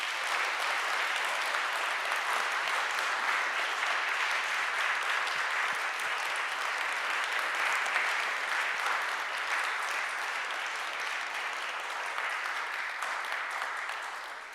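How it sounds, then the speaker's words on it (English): Sustained audience applause at an evening Christian talk on the environmental crisis, a steady dense wash of clapping that holds loud for the whole stretch and tapers slightly at the end. "Let's give him a round of applause."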